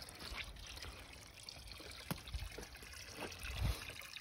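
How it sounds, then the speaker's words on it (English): A small freshwater spring trickles gently, a quiet steady flow heard close by with a few faint knocks and no talking. "There's a small spring, fresh water"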